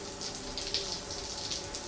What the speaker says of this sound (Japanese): シャワー浴びましょう。